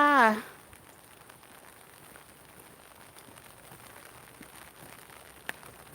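Rain falls in a steady, soft wash of patter with faint scattered ticks, fairly quiet and continuous; a voice sounds only briefly at the very start.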